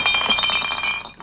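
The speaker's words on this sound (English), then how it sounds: "I'm doing the bottles. I'm taking them out of the cases and get them ready to fill up here." Glass wine bottles clink together as they are pulled out of their cases, a quick flurry of bright ringing chinks up close in just over a second.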